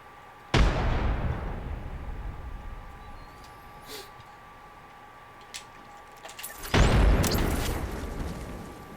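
A frag grenade goes off in a video game with a loud, sharp blast that decays slowly, followed by a few faint clicks and then a second heavy explosion near the end.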